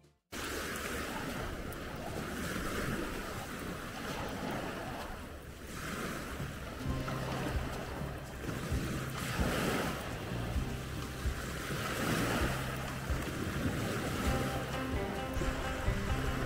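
Sea waves wash steadily onto the shore of Büyükada island, a continuous broad surf roar with gentle swells, wind brushing the microphone throughout and no voices.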